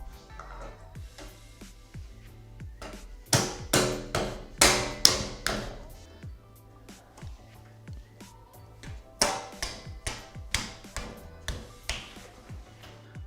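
Plastic end caps are pressed and tapped into a Toyota Tacoma side step, producing sharp knocks and snappy clicks in two bursts of several hits each, close and distinct against a quiet low hum.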